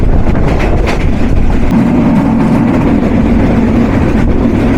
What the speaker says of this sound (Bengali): ছিষট্টি সিরিজের অত্যাধুনিক লোকোমোটিভ ছিষট্টি একুশ নীলসাগর এক্সপ্রেস কিন্তু ভালোই সময় অনুবর্তিতা মেনে চলছে